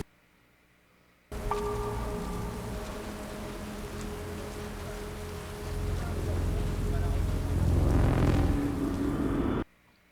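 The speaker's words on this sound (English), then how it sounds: "Why is it always raining?" Steady rain falls through a scene in the German TV drama Dark, a dense broadband hiss holding for several seconds and swelling louder near the end, with a low rumble and faint tonal hum underneath.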